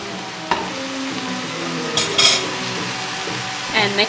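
Spinach for an Afghan dish being stirred in a hot pan, continuous sizzling broken by scraping of a utensil and a few clinks against the pan, close up with no talk.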